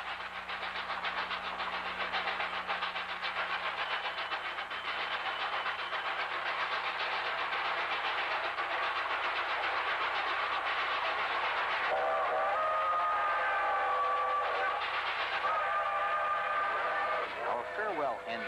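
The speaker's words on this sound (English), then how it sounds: "Farewell engine is number 3759, a 484 Northern, one of 14 of Santa Fe's 3751 cars." Santa Fe 3759, a 4-8-4 Northern steam locomotive, rumbles past in a loud, steady roar of wheels and cars, with a whistle sounding near the end.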